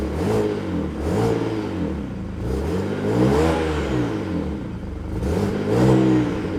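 A BMW E90 engine with an N54 engine revs up and down several times in close succession, rising and falling in pitch, loud and close with no talk.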